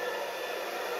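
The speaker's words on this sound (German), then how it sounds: "Man soll ja jetzt mit dem Diffusor kalt föhnen" Hair dryer fitted with a diffuser, blowing on the cold setting over permed hair, a steady broadband whoosh at even loudness throughout, with no voices.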